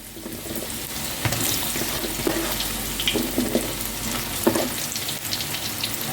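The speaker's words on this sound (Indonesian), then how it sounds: "sekarang kita akan goreng tempe ya." Tempeh sizzles and spatters steadily in hot oil in a frying pan, a dense crackling hiss that runs the whole time with small bursts of popping.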